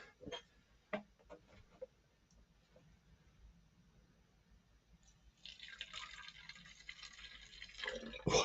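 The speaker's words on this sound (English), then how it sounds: "So we'll top the bottle up." Water running into a bottle from a tap after a few faint drips and knocks; the steady hiss of the filling stream starts midway, grows louder and ends with a louder clatter.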